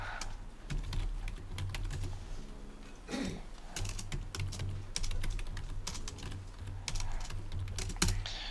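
Computer keyboard typing during web design wireframe practice: a dense run of quick, close clicks and keystrokes with brief pauses, no talking.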